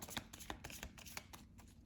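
Oracle cards being shuffled for a tarot reading give off soft, rapid papery slaps and flutters, close and fairly quiet, for under two seconds without talk.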